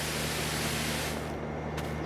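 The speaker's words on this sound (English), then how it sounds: "You can just spray in the same spot and eventually it'll get the whole thing clean" Pressure washer spraying to clean farm equipment in Farming Simulator 22, a steady broadband hiss held continuously and close, shifting slightly in tone near the end, with no talk.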